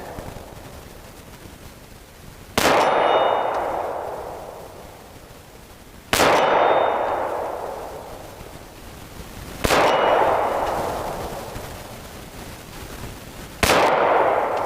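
Beretta Nano 9mm pistol fired at steel targets outdoors: four loud, separate shots spaced a few seconds apart, each a sharp crack with a ringing metallic ping from the struck steel and a long fading echo, no talk.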